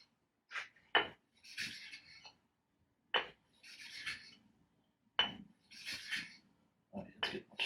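An engine valve being hand lapped with oil against its seat, rhythmic bursts of gritty rubbing and rasping strokes separated by short pauses, close and fairly quiet.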